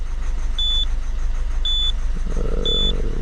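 A Citroën C4 engine runs steadily at idle inside the car, with three evenly spaced high electronic warning beeps over the hum and a low rattle near the end.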